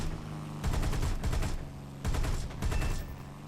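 Bursts of .50 caliber machine guns fire from a P-38 fighter in War Thunder, two long rapid-fire volleys with a brief pause between, loud and close, each burst a dense rattling stream of shots.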